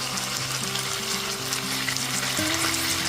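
Chilli paneer sizzles steadily in a pan with dark soy sauce and tomato sauce, a continuous close frying hiss running the full length under sustained background music tones, with no voices.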